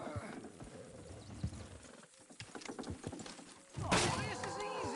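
Horses moving in Red Dead Redemption 2, with hooves clip-clopping under a continuous bed of game ambience and a brief whinny-like burst near the end.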